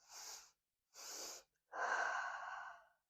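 Two quick sniffing inhales through the nose followed by a longer, audible exhale out through the mouth during a calming breathing exercise, close and soft, with no talking.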